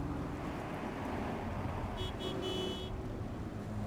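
A summoned car arriving in the video game Cyberpunk 2077, with a steady engine and road hum and a brief higher tone in the middle, at low level with no talk.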